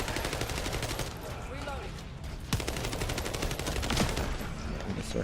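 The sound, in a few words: gunfire from a gun in the video game The First Descendant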